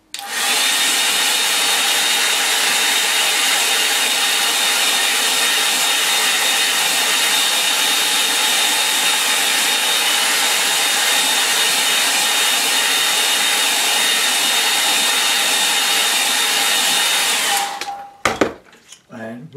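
A hair dryer roars steadily and close for about seventeen seconds while drying a watercolour painting of the Cornish coast, then cuts off abruptly, followed by brief handling noises.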